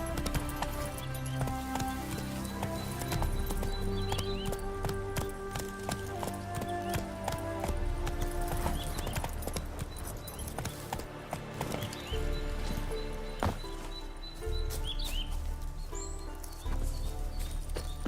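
Roach the horse gallops in The Witcher 3 Wild Hunt, a steady run of hoofbeats carried under continuous orchestral game music throughout.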